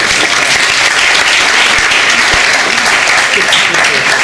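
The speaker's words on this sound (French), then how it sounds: "Vous pouvez applaudir." Loud, close, continuous applause fills the room after Cécile Duflot's talk on ecological engagement, an unbroken wash of many hands clapping.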